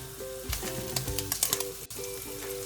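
Pancetta fries in a pan with close, crisp sizzling and bursts of popping crackles, while a soft tonal hum runs underneath.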